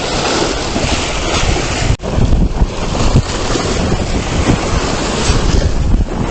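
Sea swell and waves wash against the shore with steady wind noise at a spot for bigfin reef squid egging; a dense, continuous roar with one brief dip, and no talking.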